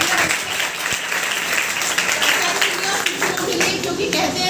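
Applause from an audience at a school ceremony honouring top-performing girl students, dense, steady clapping filling the whole stretch fairly close, with voices mixed into the crowd.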